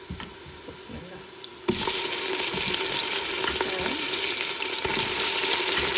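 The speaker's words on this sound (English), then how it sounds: "And now I will add the meat in there." Meat hits a pan of golden fried onions, a loud steady sizzle and crackle that jumps up abruptly after a quieter frying hiss, with occasional stirring scrapes, close and continuous.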